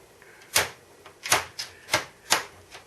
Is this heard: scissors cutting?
yes